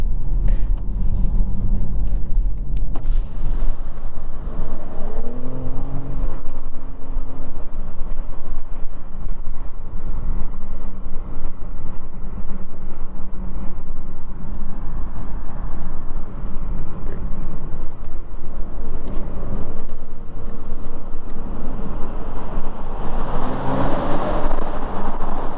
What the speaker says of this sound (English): You guys see that blow-off valve when I let off?